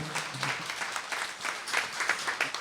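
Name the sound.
audience applause for a text's author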